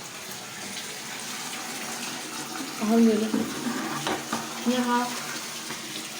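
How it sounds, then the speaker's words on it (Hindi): Tap water gushes steadily into a bath, a continuous splashing flow heard up close, while voices speak briefly over it. "देखो पानी गिर रहा है,"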